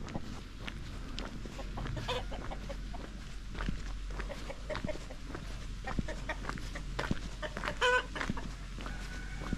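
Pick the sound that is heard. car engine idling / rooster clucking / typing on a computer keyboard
rooster clucking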